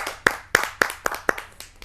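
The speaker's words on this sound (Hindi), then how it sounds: "आप सबकी जोरदार तालियों से" Slow, evenly spaced claps at a Hindi poetry gathering, about six sharp, close hand strikes roughly a quarter second apart, each ringing briefly before the next.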